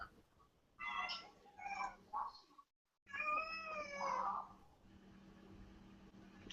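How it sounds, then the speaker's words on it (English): A house cat meows in a series of clear, drawn-out calls, two bursts separated by a short silence, heard close and fairly loud over a low background hum. "That's my cat."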